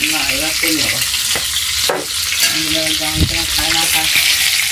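Magur catfish frying in oil over a wood-fired clay stove, a loud continuous crackling sizzle close by, with a few clinks and stirring scrapes and faint voices in the background.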